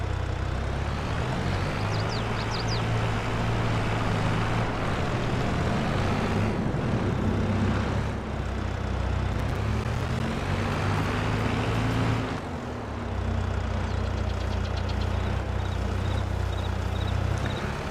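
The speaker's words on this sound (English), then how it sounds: "we have the Mahindra. So I'm going to use it to run out to the field rather than drive out there with the tractor" A Mahindra utility vehicle driven in Farming Simulator 22 gives a steady, loud engine drone with shifting revs and a brief dip partway through, and no voices over it.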